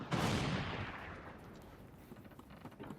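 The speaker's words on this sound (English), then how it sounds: "Fire! Left cannons loaded." Cannon fire in the VR naval game Furious Seas, a single deep booming blast that rolls off into a fading rumble, heard alone at moderate loudness.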